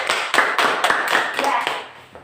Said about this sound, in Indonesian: Tepuk tangan dulu untuk Etrin.